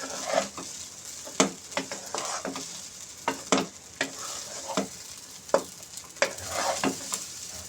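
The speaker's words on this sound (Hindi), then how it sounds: "चिली सॉस भी और सोया सॉस। अच्छे तरीके नाल हिला लेने असीं उन्हें।" A utensil stirs and scrapes rice with chili sauce and soy sauce in a sizzling pan, with repeated sharp clacks against the metal over a steady frying hiss, no talking.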